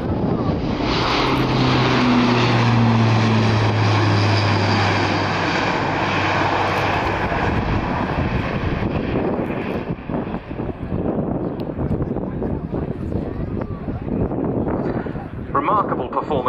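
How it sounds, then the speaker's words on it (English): A large four-engine turboprop airlifter with Europrop TP400D6 engines roars loudly overhead at an air show, a dense steady drone that slowly fades, with a voice talking over it. "four turboprop, four Europrop International TP400D6 powered airlifter"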